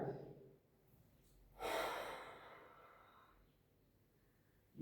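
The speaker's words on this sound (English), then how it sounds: "so here's where you breathe out" A single audible exhale through the mouth during a tiger mouth breathing exercise, one long breathy rush of air, close and moderately loud, between quieter breaths.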